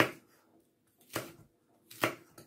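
Knife cutting lengthwise through an onion on a chopping board, three crisp close chops with a small follow-up tap, quiet and alone.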